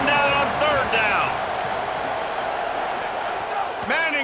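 Stadium crowd cheering in EA Sports College Football, a steady loud roar throughout, with a commentator's voice talking over it at the start and end.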